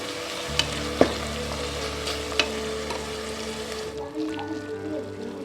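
Ground green masala for mutton biryani sautés in a pressure cooker, giving a steady low sizzle with a few light clinks of a spoon against the pot, close and continuous.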